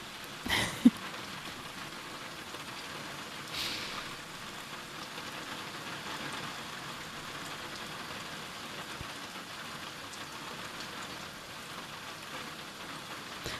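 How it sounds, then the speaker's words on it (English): Background rain in the game House Flipper 2 hisses steadily and softly, a faint continuous patter with a brief louder knock near the start and no voices. "So yeah, you get rain as a background."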